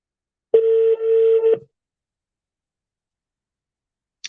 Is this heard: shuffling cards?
no